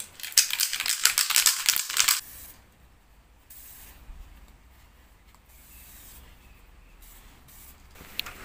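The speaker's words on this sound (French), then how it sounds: "Elle est bien cette bombe parce que ça fait vraiment comme avec un pistolet." An aerosol spray paint can sprays in loud, hissing bursts for about two seconds while a Peugeot 103 Fox moped is being custom painted, then falls to a faint, quiet background.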